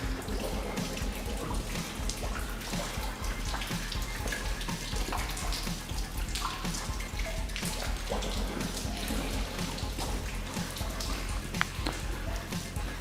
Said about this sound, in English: you've got quite a lot of water dripping through